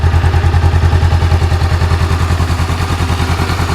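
A Honda CB500F motorcycle engine idles loudly and steadily, with a rapid, even thumping exhaust pulse close by.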